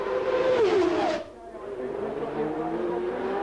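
Formula One race cars engines whine loudly at the 1990 Australian Grand Prix, one high engine note sliding down then sustaining with a second car audible behind, a commentator talking over the roar.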